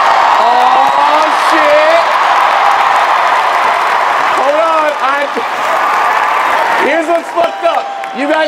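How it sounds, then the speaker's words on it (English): A comedy club audience applauds, a thick, loud wash of clapping that runs throughout, with a voice speaking over it and cutting through near the end. "You guys started applauding like that was gonna be the momentum"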